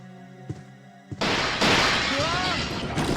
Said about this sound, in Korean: 갑자기 창문을 와장창 깨고 좀비떼가 들어옵니다